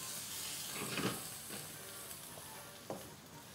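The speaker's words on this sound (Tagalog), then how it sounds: "magigisa ka ulit ng bawang sibuyas" Garlic and onion sautéing in a pan for pork pata paksiw give off a steady close sizzle, with a few brief stirring scrapes rising above the hiss.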